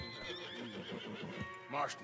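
A horse neighs in the video game Mafia: Remastered, its whinny rising near the end over hoof clip-clops while someone speaks softly underneath.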